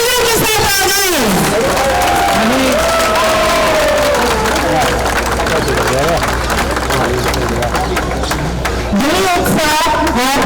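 Crowd applauding and cheering at the inauguration of a garden area, a loud, sustained roar of clapping and shouts lasting throughout, with a voice speaking over the noise at the start and end.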